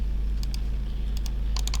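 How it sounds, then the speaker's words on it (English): Numbers are entered on a computer keyboard in a few quick bursts of key taps. The taps sound faint over a steady low electrical hum, and no one speaks. "So we're typing 2695"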